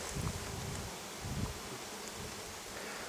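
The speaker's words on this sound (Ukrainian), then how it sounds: "поле гудить від бджіл і за свиріпи" A steady, low drone of many bees over a flowering rapeseed field, continuous and distant-sounding, with faint wind in the background.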